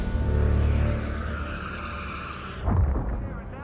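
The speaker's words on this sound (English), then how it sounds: "Adrian Sutil went off at the Dunlop corner, crashing straight into the barriers." A Formula 1 race car at the Dunlop corner skids with a sustained loud engine and tire roar, then a sharp impact burst as it crashes into the barriers.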